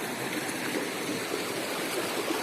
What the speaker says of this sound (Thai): ครับเป็นน้ำตกน้ำลงไป